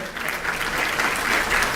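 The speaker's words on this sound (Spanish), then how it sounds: "Un aplauso, por favor." Short burst of audience applause at a science fair recognition ceremony, many people clapping together in a loud, even wash from start to finish.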